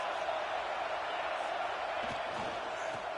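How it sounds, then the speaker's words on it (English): A packed football stadium crowd roars steadily and loudly as fans try to rattle the opposing offense, a dense, continuous wall of cheering noise without clear breaks. "This crowd trying to make life miserable for this offense."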